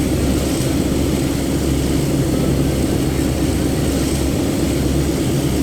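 A DE 24000 diesel locomotive in a train simulator game roars at high RPM, a dense, loud, unbroken engine drone throughout.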